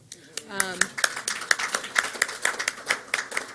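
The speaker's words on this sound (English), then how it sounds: "yes, it's okay to clap." Scattered hand claps from a small crowd at a school board meeting, irregular and fairly close, continuing for a few seconds with a brief voice near the start.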